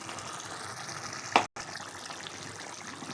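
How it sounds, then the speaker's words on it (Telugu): Water is poured into chicken curry cooking on the stove, a steady liquid rush and simmering hiss with a brief louder splash near the middle, close up and without speech. "కొన్ని వాటర్ కూడా పోసుకుందాం."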